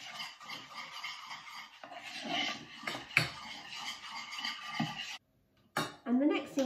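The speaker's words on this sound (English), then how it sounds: "You're then going to add in 3 dessert spoons of milk, and you're just going to give that a good stir." Melted butter, cocoa powder and milk are stirred in a bowl with a spoon, giving close, repeated scraping and clinking strokes, then a short silent pause before a few more clinks.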